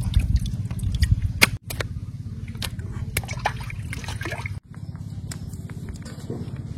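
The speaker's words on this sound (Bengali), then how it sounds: "কলে জল দিয়ে ফ্রেশ করে ধুয়ে দিই" Pieces of hilsa fish being rinsed under a running kitchen tap, with a steady close trickle of water and wet splashes and squishes as the fish is handled.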